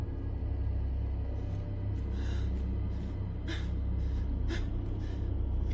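A character in the horror game Neverending Nightmares breathes heavily and asthmatically, a steady run of raspy, wheezing inhales and exhales over a low droning ambience, close and continuous.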